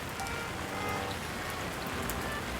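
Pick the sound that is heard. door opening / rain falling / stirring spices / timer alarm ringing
rain falling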